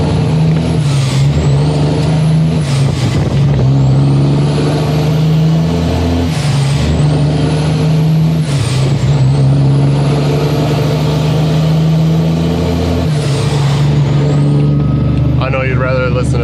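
A large truck idles loudly up close, its deep engine drone steady, with hissing air bursts and shifting whine as it runs.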